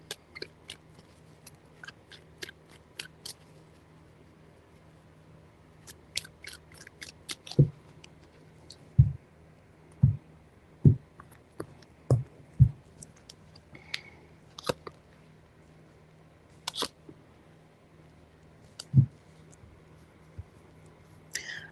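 Tarot cards shuffled by hand, with a string of sharp riffling snaps and soft slaps scattered through a quiet room, a few louder bursts standing out in the middle.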